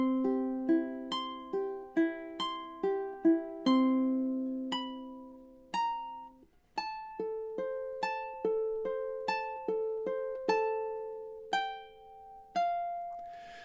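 Fingerstyle ukulele plays four measures of Spanish Romance as a steady run of plucked notes forming arpeggios, clear and close, with a held note ringing out at the end and no talking.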